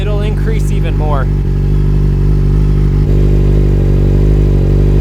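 A Yamaha R6 motorcycle idles steadily at close range, a constant low engine hum with a harmonic drone, while someone talks over the first second or so.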